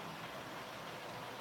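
A model train pulling coaches rolls into the station with a steady, close, continuous rumble of running wheels and motor, heard alone without talk.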